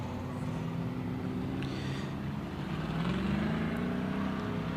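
A race car in a heat race at Bakersfield Speedway drones under acceleration, a steady, throaty engine note that climbs in pitch toward the end, heard from a distance without talk.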